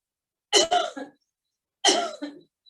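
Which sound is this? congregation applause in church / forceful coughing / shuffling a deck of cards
forceful coughing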